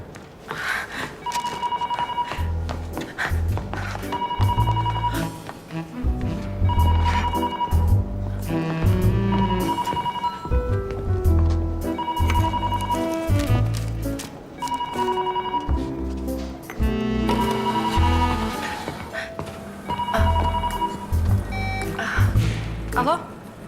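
An old telephone bell rings in repeated bursts inside a busy office, loud and near, over background music, with people talking around it.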